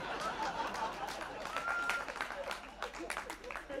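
Audience at a Hindi poetry recital claps in scattered, uneven bursts, fairly faint, mixed with chatter and some laughter.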